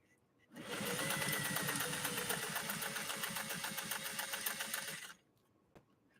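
A 1962 Singer 500A sewing machine stitching zigzag, a fast rhythmic whirring chatter that runs for about four and a half seconds, then stops abruptly, followed by a faint click.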